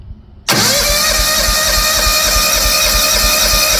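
A Kawasaki engine on a John Deere 175 riding mower, started by jumping the 12-volt starter relay, is quiet for half a second, then fires abruptly and runs at a loud, steady, close idle.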